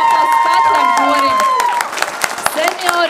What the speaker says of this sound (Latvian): Lūdzu, aplausus katram korim.